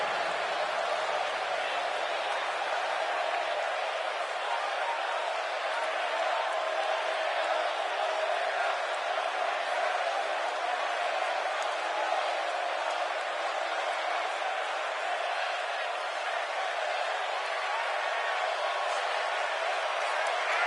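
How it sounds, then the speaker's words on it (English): A wrestling arena crowd in the WWE 2K19 video game cheers in a dense, continuous roar that holds steady throughout, with a voice talking over it. "it sounds to me like this crowd already picked the one who they want to win this match"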